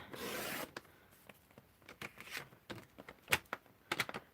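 Card stock is cut down for a stamping project, starting with a short rasping swipe, then quiet scattered clicks, rubs and paper handling sounds close by.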